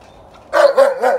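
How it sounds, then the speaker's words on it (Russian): A dog, a West Siberian Laika, barks three times in quick succession, close and loud, after a brief quiet lead-in. "Тайга все лает, лает без перерыва."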